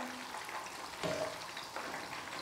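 Stuffed chicken onion rings fry in oil with a soft, continuous sizzle, close and fairly quiet, and a brief louder bubbling swell as they are turned.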